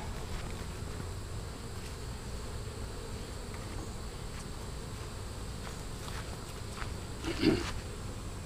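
Bees buzz in a steady, dense drone around an opened Langstroth hive, close and continuous, with a brief louder buzz passing near.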